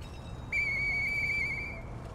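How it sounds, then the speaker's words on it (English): A worn police whistle is blown in the video game Lies of P, giving a single clear, sustained shrill tone that lasts about a second over a low background hum. "a faded police whistle that's been worn smooth from use"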